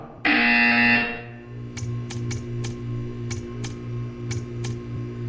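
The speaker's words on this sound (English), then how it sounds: "You will hear a buzzer." A loud electronic buzzer in Portal 2 blares for about a second, followed by a steady low hum and a series of sharp ticking clicks.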